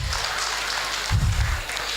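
Conference audience at a Thanksgiving awards event clapping together, a steady wash of many hands with a louder burst near the middle, no voices over it.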